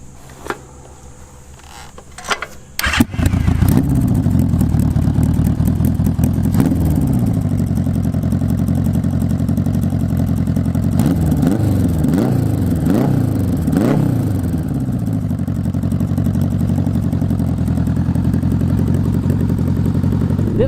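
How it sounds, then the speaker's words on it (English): A stripped-down custom 1980s Honda Goldwing motorcycle starts after a few quiet clicks, then idles loud and close with a steady rumble, broken by several sharp throttle blips in the middle before settling back to idle. "You want to fire it up? Let's fire her up."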